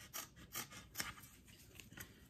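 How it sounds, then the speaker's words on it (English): Scissors snip through hockey stick tape in about five quick, rhythmic cuts, close up and crisp, with no talking. "So the next thing is to grab my scissors. I'm going to cut around this top part."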